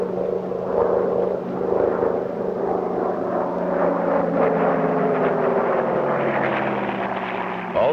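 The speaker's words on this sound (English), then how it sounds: "Planes flew overhead, dipping in salute and welcoming them to Australia." Propeller planes fly overhead in salute off the Australian coast, a loud continuous engine drone with layered humming tones that swells and shifts slightly as the aircraft pass.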